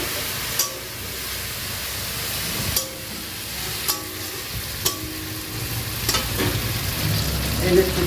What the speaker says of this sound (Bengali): তেল ছাড়লে দিয়ে দেবো বাঁধাকপি